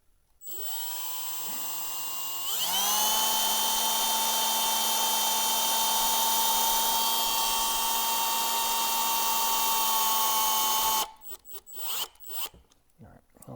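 A power driver runs a machine screw through a Kubota-mounted YakAttack Blackpak Pro 16x16, whining up briefly, then rising to a loud, sustained high-pitched whir for about eight seconds before stopping. A few clattering handling noises follow.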